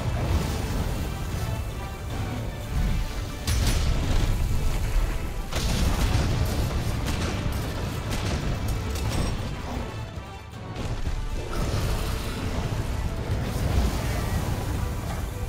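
Blastblight explosions during a Monster Hunter World Iceborne hunt, heard as repeated loud booming blasts and crashes over dense, rumbling game sound with no pauses.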